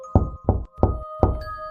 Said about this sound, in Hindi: अनुज को दरवाजा खटखटाने की आवाज सुनाई दी